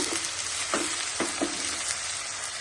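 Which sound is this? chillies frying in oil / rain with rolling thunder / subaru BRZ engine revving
chillies frying in oil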